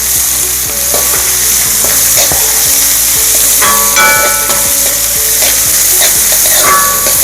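Vegetables with carrot sizzle and fry loudly in a hot pan, with steady crackling and repeated scraping stirs close up, continuous throughout.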